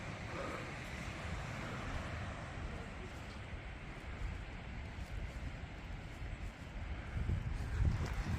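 Ocean waves wash in a steady, soft roar with some wind noise on the microphone, the surge swelling a little louder near the end.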